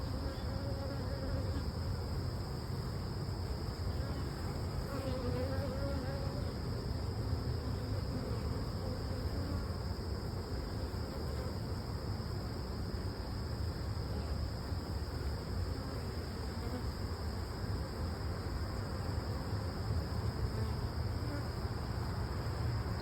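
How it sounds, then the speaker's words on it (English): Honey bees crowd a brood frame lifted from a hive, their dense buzzing steady and close throughout with no talk. "A lot more bees on it too."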